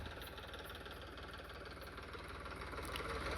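A New Holland 3032 tractor idles with a newly fitted silencer, its diesel engine thrumming in a steady, even low knock at close range, with no voices over it.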